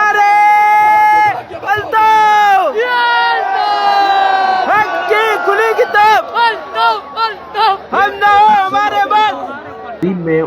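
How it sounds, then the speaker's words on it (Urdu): At a political rally venue, a crowd loudly chants slogans for Altaf Hussain in rhythmic, repeated bursts, led by strong voices and swelling into overlapping shouts. "پورا پنڈال گونجتا رہا بانی متحدہ الطاف حسین کے نعروں سے"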